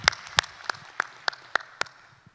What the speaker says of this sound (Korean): 주님께 영광 박수 드리겠습니다.